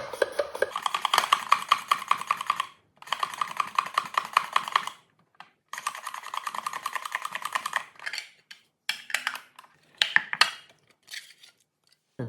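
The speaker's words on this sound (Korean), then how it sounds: "오이 반 개 정도를 잘라서 아주 얇게 슬라이스 해줄 거예요" Half a cucumber being sliced very thinly with a knife on a board, rapid rhythmic tapping in quick bursts with short pauses, close and crisp throughout.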